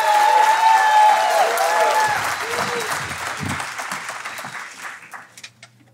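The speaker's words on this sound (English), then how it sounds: "please, a big round of applause for our penultimate speaker" A conference audience applauds as a speaker takes the stage, full clapping from many hands that gradually thins and fades out over several seconds, with some voices mixed in.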